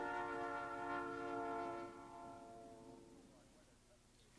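A Southern Pacific railroad train horn sounds one long chord, steady then fading away, fairly faint and distant-sounding.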